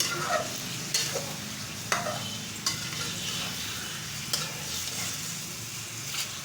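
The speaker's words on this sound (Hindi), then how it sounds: "इसको हम 10 से 15 मिनट की तरह से भून लेंगे, ताकि ये हल्का गोल्डन हो जाए।" Meat fries in ghee in a pan for Peshawari charsi karahi, with a steady soft sizzle broken by regular scraping stirs and clinks of the spoon against the pan.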